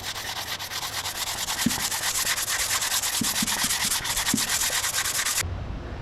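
A flat sanding block rubs back and forth over body filler on an oval-window Beetle pickup, a dense rhythmic rasping strokes close by, steady and loud, stopping abruptly near the end.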